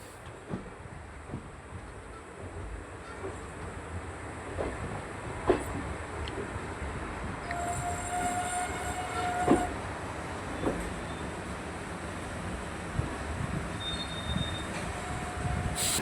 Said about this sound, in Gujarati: અહીંયા મકનસર ગામમાં આપણે આપણી ટ્રેન અહીંયા આવી રહી છે